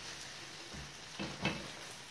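A Spanish omelette of egg and potato fries in a frying pan, giving a steady, soft sizzle with a brief scrape or clatter of the pan partway through, and no voices.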